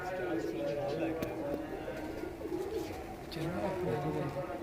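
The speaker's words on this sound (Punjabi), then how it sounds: "ਇਹ ਦੋਸਤੋ ਹੁਣ ਤੁਹਾਨੂੰ ਇਹ ਤੇ ਕਬੂਤਰ ਅਸੀਂ ਤੁਹਾਨੂੰ ਵਿਖਾਏ ਹਨ" Soft, repeated cooing of pigeons on a rooftop under steady background noise, with people talking nearby.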